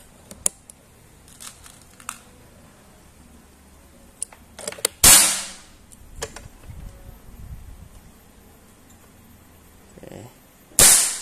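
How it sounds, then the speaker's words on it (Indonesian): A PCP air rifle, a Predator Tactical, fires at silhouette targets, giving two sharp loud cracks several seconds apart, with quiet handling clicks and faint background noise in between. "Nembak siluet."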